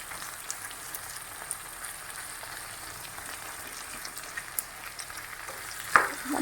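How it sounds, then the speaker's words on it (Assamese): Chopped capsicum and tomato fry in hot oil with a soft, even crackle at low volume, broken by a brief clink near the end. "ৰেডি কৰি থোৱা কেপচিকাম আৰু বিলাহী আমি এইখিনি ইয়াতে দি দিম এতিয়া এইখিনি তেলতে ধুনীয়াকৈ সিজি যাব"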